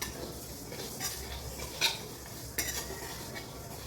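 Dal posto being stirred in a pan: a spoon scrapes and clinks against the metal with scattered sharp knocks, two louder strikes standing out, over a faint low background hum and no talking.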